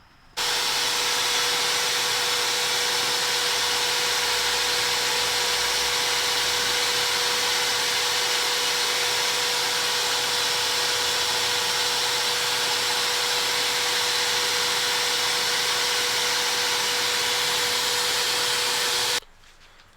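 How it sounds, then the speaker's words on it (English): A sandblaster cleans rear brake parts for a B5 Audi S4 with a loud, steady hiss of blasting media. It starts abruptly, holds constant for about twenty seconds with a faint tonal whine underneath, then cuts off sharply. "So I'm gonna go get this in the sandblaster, clean them up, and then get them looking white."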